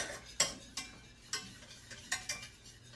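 A whisk clinks against a bowl while stirring a gummy mixture made with BCAA powder, a few close, irregular metallic taps and scrapes with no talking.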